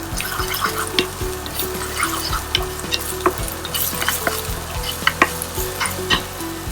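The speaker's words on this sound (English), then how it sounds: "Chopped onions," Chopped onions sautéing in a pan after garlic, a continuous close sizzle broken by scraping and clinking of a spoon being stirred through.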